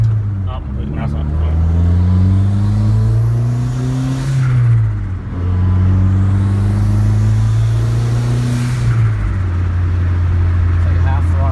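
A Dodge Caliber SRT-4 engine under rebuild revs at half throttle up close. Two long, steady rises in pitch each drop back, with a loud mid-range drone and voices talking alongside.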